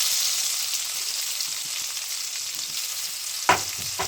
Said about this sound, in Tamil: நல்லா வெள்ளைப்பூட வதக்கணும்.